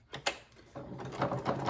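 A sewing machine runs briefly while a patchwork cover is stitched, giving a short close mechanical whirr with a couple of quick clicks at the start.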